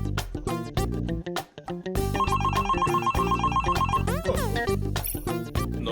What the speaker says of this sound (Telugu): ఈ ఫోన్ ఎందుకు ఇలా రింగ్ అవుతోంది?